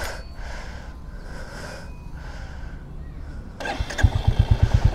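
A motorcycle engine cranks and catches near the end after a stretch of faint background noise, then settles into loud, rhythmic close-up idling pulses.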